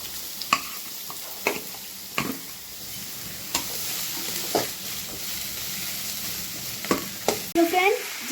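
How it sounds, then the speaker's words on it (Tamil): Onions frying to golden in oil in a pan: a continuous close sizzle punctuated by repeated sharp clinks and scrapes of stirring, with no voices. "வெங்காயம் நல்லா கோல்டு கலரில் வறுத்துக்கணும்."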